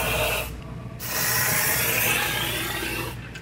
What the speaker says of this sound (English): So I have some 3M cavity wax here, and I'm gonna hose this.